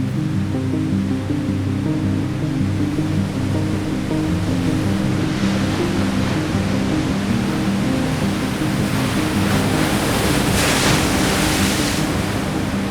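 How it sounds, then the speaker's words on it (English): Sea waves crash steadily onto a shore at Lismore, Scotland, a continuous loud roar of surf with washing hiss rising near the end, no voices. "the waves break loudly on the shore"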